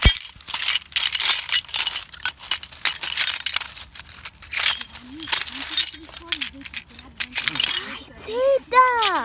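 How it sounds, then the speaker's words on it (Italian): Broken glass shards clink and rattle as they are handled in a woodland camp, a sequence of sharp, close clinks and scrapes in irregular bursts, with people talking in between. "Quanti sono milioni di vetri"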